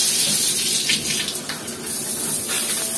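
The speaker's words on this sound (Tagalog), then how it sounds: "Check natin sa telephone shower." Water sprays steadily from a handheld telephone shower fitted to a newly installed mixer faucet, a continuous close hiss with no talking.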